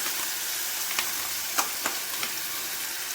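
Ground tomato and onion sautéing in a pan for a bitter gourd dish, a steady soft sizzle with a few faint stirring clicks and scrapes, close and alone without voices.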